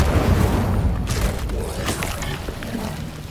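Incendio fire spell cast in Hogwarts Legacy, a heavy booming burst of flame with low rumble and crackling, several whooshing bursts fading across the moment.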